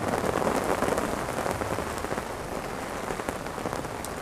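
Evening rain patters steadily on surfaces beside a hedge during float fishing, a close, even crackle of drops with no talking.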